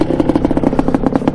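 A Quadzilla Banshee 500cc quad idling close by, a rapid, even, throbbing putter with a metallic clatter on every beat, steady and loud.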